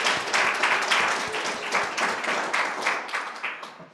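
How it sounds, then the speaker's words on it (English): Audience applause at a poetry open-mic night, a dense wash of many hands clapping steadily for about four seconds, full and sustained with no talk over it. "Friends, can we give Lulu another round of applause?"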